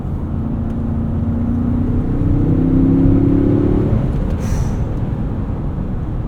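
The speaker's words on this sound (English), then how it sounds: "this high output motor is great" A 2025 Ford Expedition Max Platinum with the high output engine accelerating, heard from inside as a loud, steady engine drone whose tone climbs and then settles, with no talking.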